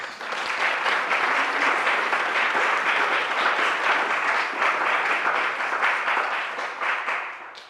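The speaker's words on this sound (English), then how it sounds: "Please give yourselves a round of applause." Sustained applause from a crowd, steady dense clapping lasting several seconds before tapering slightly at the end.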